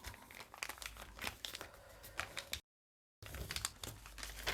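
Paper bags being folded and creased by hand, giving close, crisp crinkling and rustling with sharp creasing snaps, broken by a short silent gap.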